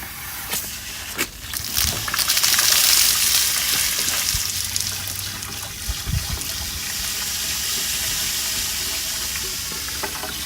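Drinking water runs from the potable water spigot at an RV dump station, a steady close hissing rush that lasts the whole stretch, with a few brief clanks near the start and middle.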